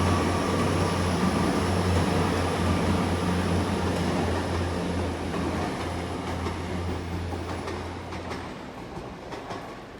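A double IET train runs through Exeter St David's station, a loud steady rumble with a low engine drone and rail clatter that gradually fades as it moves off, with no voices.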